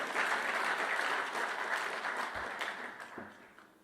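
A crowd at a political speech applauds steadily with dense, continuous clapping that slowly fades toward the end.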